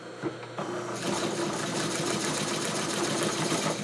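A sewing machine stitches new material onto an old British-style car sun visor, starting with a few hesitant clicks before settling into a steady, rapid mechanical chatter close by.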